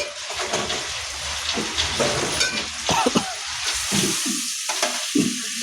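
Onions and tomatoes fry in a pan for drumstick sambar, giving a loud, continuous sizzle broken by clattering stirs and scrapes, with no talk.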